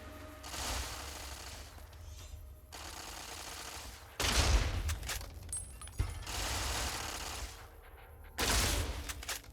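Bursts of gunfire in a Fallout: New Vegas battle, several loud volleys of rapid shots separated by brief pauses, with mechanical clicks and clatter between them and no talk.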